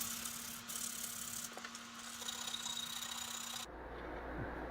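A wooden piece for a wall-mounted fishing rod rack is sanded by hand, a steady dry scratching rub running for several seconds with a low hum beneath, then cutting off near the end.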